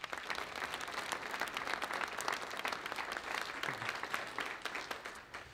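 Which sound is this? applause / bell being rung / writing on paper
applause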